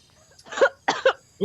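A man coughs a few times outdoors on a rural mountainside morning, short hoarse bursts in quick succession, fairly close and moderately loud over a quiet background.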